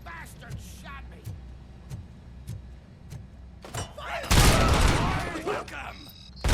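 Gunfire in the Robocop Rogue City video game: a steady series of evenly spaced shots, then a loud, dense burst of noise near the end, with a voice speaking over the game sounds.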